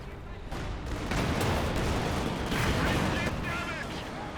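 A Panzerwerfer rocket artillery barrage in Company of Heroes 2 makes a dense, loud, continuous rumble of launches and impacts. A commentator's voice runs underneath the barrage.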